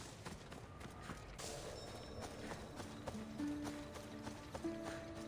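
Horse hooves in Assassin's Creed Odyssey, a faint, steady clip-clop of a riding gait carrying on under soft ambient tones.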